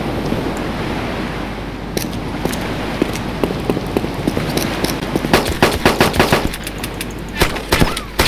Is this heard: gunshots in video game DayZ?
yes